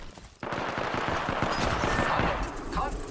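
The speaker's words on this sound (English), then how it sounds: "I am taking fire, friends." Rapid bursts of video game gunfire crackle steadily through most of the clip after a sudden onset, dense and fairly loud, with faint talk mixed in.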